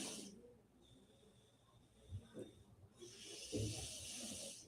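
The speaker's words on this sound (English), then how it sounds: "you hear my daughter snoring hard" A child snores in soft breaths that repeat slowly against a faint hiss of background noise, the snores gentle and low in the quiet room.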